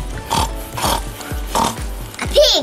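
A pig grunts and oinks about five times in a loose rhythm. The final call rises into a sharper squeal, close and fairly loud.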